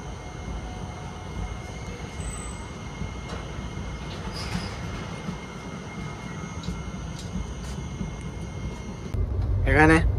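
Heard from on board, the 12311 Netaji Express from Howrah to Kalka runs on after leaving Firozabad with a steady rumbling roll and faint high wheel squeals, swelling louder near the end.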